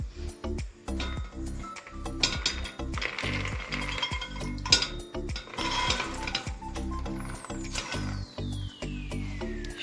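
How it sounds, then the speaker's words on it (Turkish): Dried beans poured into a cooking pot: a dense, continuous clatter of small hard pieces rattling and ticking against metal, close and steady, without speech. "Tencereme kuru fasulyelerimi koyuyorum."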